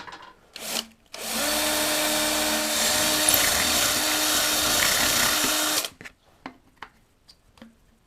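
A power drill whirs steadily for about five seconds, close and loud, starting and stopping abruptly with a few short clicks and knocks around it.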